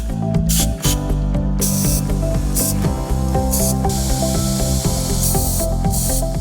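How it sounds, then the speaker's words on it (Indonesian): Bursts of aerosol carburetor cleaner hiss loudly and close onto an outboard motor carburetor and its choke, several sprays separated by short pauses over a steady background drone. "Gunakan karburator cleaner untuk membersihkan kotoran-kotoran atau jelaga-jelaga yang menyumbat di saluran-saluran karburator."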